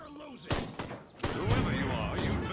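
Gunfire in the video game Destroy All Humans comes as a few sharp blasts in quick bursts, loud and close, mixed with speech.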